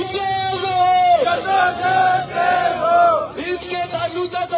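A crowd at a political rally shouts a slogan back in unison, loud chanted voices in a couple of surging bursts answering a leader's call.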